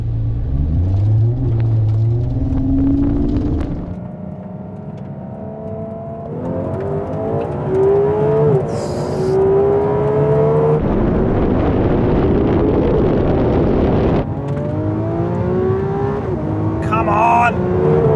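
A V12 Lamborghini Aventador Ultimae and a V12 Ferrari 812 Competizione drag racing, loud engine roar rising through repeated gear-change revs and a fading rumble, with some talk over it.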